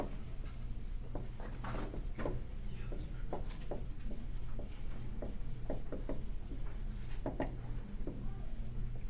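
Dry marker squeaking and rubbing across paper in short, uneven strokes during a graphing lecture, faint under steady room hiss.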